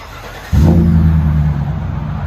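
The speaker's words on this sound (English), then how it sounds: "Let you guys hear on the inside. GMC Sierra Denali supercharged" Heard from inside the cab, a supercharged 6.2-liter V8 in a GMC Sierra Denali pickup fires into a deep, loud rumbling rev that holds steady for about two seconds.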